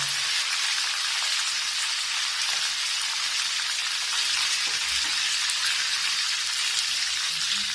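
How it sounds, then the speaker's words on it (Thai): Tofu deep-fries in a pan of oil over medium heat until golden. A dense, even, rain-like sizzle carries on loudly and close throughout, with no voices. "เดี๋ยวทอดจนให้เป็น สีเหลืองทองนะครับ"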